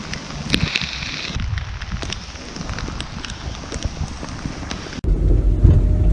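Heavy rain patters and crackles on the roof of a camper van, with deep rumbles of thunder rolling underneath and a louder, closer rumble near the end.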